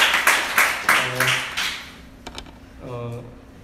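A handful of loose, scattered claps from an audience at a church summer retreat lecture, about five distinct slaps in the first second and a half, then a speaking voice takes over.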